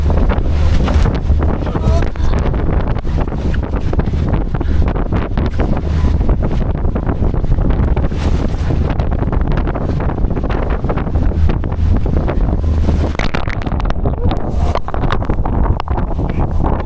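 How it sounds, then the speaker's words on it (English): Zodiac boat pounding through rough waves in strong wind in Antarctica, with constant loud wind buffeting the microphone, rushing water and engine roar, and voices partly buried underneath. "It's a really rough ride, and we all struggle to stay in our seated position on the side of the Zodiacs."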